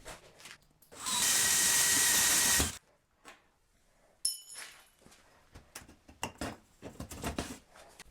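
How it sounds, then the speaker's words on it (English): A power drill runs in one loud, steady burst of about two seconds while boring into a metal barrel for a wood gasifier retort, followed by clinks, scrapes and handling noises close by. "Now I'll drill holes in the barrel to fit the pipework."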